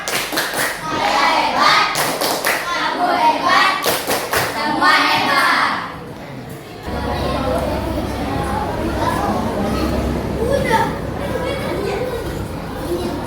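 Schoolchildren in an Indonesian classroom lesson do a rhythmic clapping chant, with sharp, loud, evenly spaced claps and voices chanting together for several seconds. After that the claps stop and softer classroom chatter and a teacher's voice carry on.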